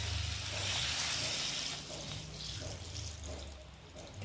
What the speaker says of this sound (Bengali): আর এখন আমি জল দিয়ে ভালো করে ফুটিয়ে নেব।